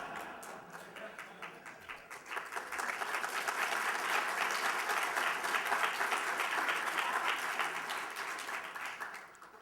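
An audience bursts into applause that swells and holds steady for several seconds before gradually fading, heard from a moderate distance.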